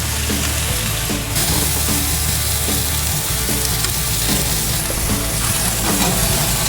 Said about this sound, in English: we're going to sear our burger right on top of that